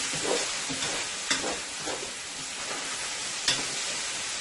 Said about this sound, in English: Look how beautifully these potatoes are frying.